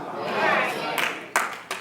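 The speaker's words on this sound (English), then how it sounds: "Y'all can clap for that. That's a good clap there." A church congregation claps at a 30-year pastoral anniversary service, with a broad wash of hands and a few sharp, louder claps standing out near the end, heard over a speaking voice.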